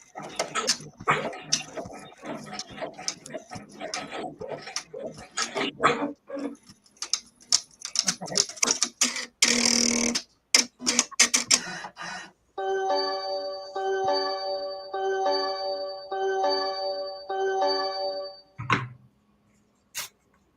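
An embroidery machine stitches an in-the-hoop project. Scattered clicks and handling clatter come first, then about six seconds of fast, regular mechanical stitching close by, ending with a brief thump.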